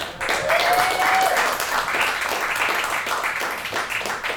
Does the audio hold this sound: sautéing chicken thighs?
no